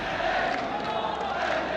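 A home crowd roars steadily at an Overwatch esports quarterfinal between Crazy Raccoon and Twisted Minds, a dense, loud wash of cheering from a large arena audience with no breaks.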